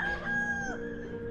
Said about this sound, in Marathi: आणि आजूबाजूला पक्ष्यांचे आवाज तुम्हाला ऐकायला येत असेल